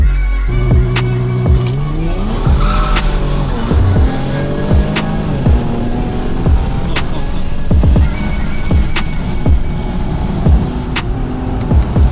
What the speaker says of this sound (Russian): Мощный старт от Infiniti.